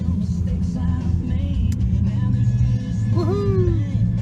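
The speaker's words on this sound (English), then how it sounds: "You're driving your new truck!" A new truck drives along with a steady low engine rumble close by; a voice cheers briefly near the end.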